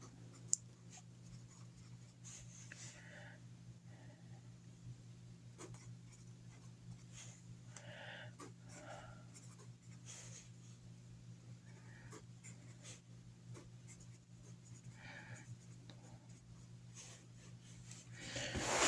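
Handwriting on paper, faint pen scratches repeating in short strokes over a steady low hum, quiet and close with no talk.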